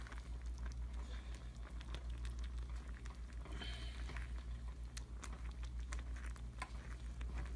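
Mac and cheese being stirred with creamy ranch and nacho cheese powder: a steady, close wet churning with small scraping clicks scattered throughout, and no talking.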